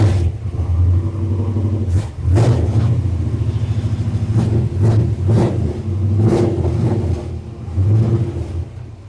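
A 1972 Suburban engine is revved repeatedly, each loud throaty burst swelling and dropping back to a rumbling idle in close, uneven pulses with no talking.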